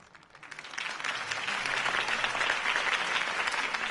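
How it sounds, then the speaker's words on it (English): Steady crowd applause in Batman: The Telltale Series swells in over the first second and holds loud and dense, many hands clapping together without a break. "could have heard that applause"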